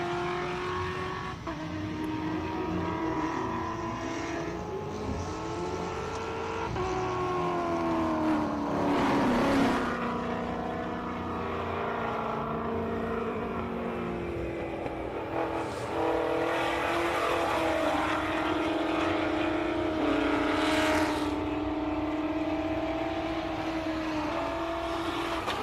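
Race cars climbing the Simola hillclimb at pace, engines revving loudly and continuously with rising and falling pitch as they shift gears and pass, a sustained roar with no talk.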